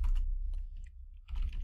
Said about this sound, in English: we can start typing out the name of our orders table